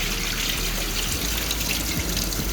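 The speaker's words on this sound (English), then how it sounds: "just rinse your meat one more time" Running tap water pours steadily over raw meat being rinsed for Jamaican-style stew peas, a continuous close splashing rush with no talk.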